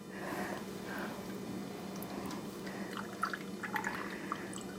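Blue milk pours from a container in a steady, soft liquid stream with faint dripping, fairly close and quiet, with no talking.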